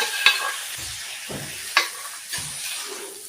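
Spoon scraping and stirring mutton in a pan with a soft sizzle underneath, a few distinct clicks and scrapes spaced across a few seconds.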